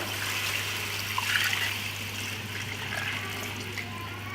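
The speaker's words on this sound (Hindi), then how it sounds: "तो पानी डाल लेते हैं हम इसके अंदर।" Steady trickling and splashing of water being poured into a pressure cooker, continuous and close, with a low electrical hum underneath.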